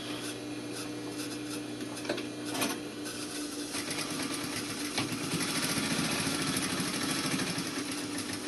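A sewing machine stitches a pocket seam, back-tacking at both ends of the line. The mechanical whir runs steadily and close throughout, growing a little busier and louder toward the end, with no talking.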